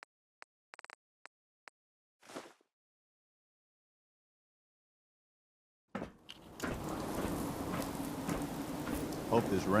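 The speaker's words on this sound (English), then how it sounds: "Hope this rain lets up soon." Steady rain falling in Fallout 4, a dense continuous hiss that starts abruptly after several seconds of near silence broken by a few faint clicks and a short swish.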